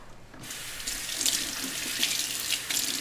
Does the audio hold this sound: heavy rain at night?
no